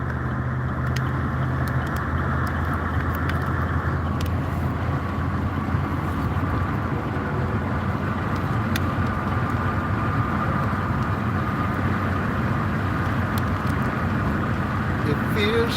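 A truck cruises down the road with a constant low engine and tire rumble that stays steady throughout, while someone talks intermittently over it.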